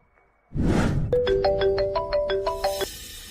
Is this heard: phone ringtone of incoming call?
yes